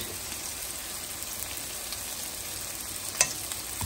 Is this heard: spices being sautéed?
yes